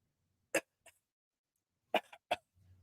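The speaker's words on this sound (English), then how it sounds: "Uh-oh, you coughing? Can you cover your mouth?" A handful of short, dry coughs come close by in a quiet room, spaced unevenly in two small clusters.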